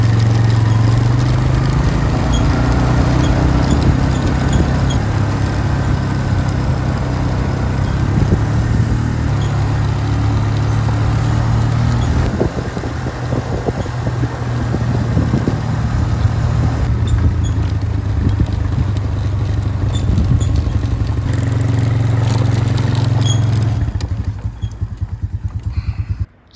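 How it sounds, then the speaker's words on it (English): Construction machinery laying a new sewer pipe near a home gives a loud, continuous engine drone with a heavy low rumble. The pitch shifts now and then, with clanks and rattles over it, until it cuts off at the end. "So this is all the noise you can hear around my place at the moment. They're putting a new sewer pipe in."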